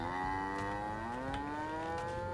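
A single sustained cow moo from Trader Life Simulator 2, a supermarket game, holds steady for about two seconds with a gradual upward bend, heard clearly and up close over faint game ambience.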